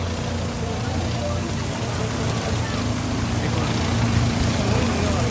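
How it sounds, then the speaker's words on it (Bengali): Steady heavy rain during a storm on the Yamuna riverbank in Vrindavan hisses and patters without pause, a dense wash of noise filling the space, with a low rumble underneath. "বৃষ্টি হচ্ছে দেখুন কি দারুণ বৃষ্টি হচ্ছে"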